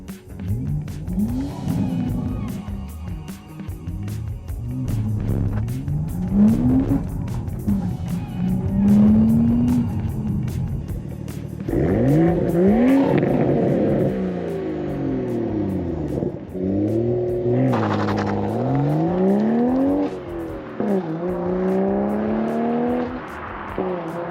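Toyota Supra with a manual transmission accelerating hard on an open road, its engine revving up through repeated rising sweeps, dropping on each gearshift, loud and close inside the car.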